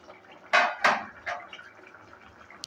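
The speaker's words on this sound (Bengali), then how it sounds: "ঢাকনাটা এবার তুলে নিচ্ছি।" A metal lid lifted off a pot of soybean and jackfruit curry, heard as two sharp clanks close together, a softer third knock, then a tiny clink as the cooking quiets.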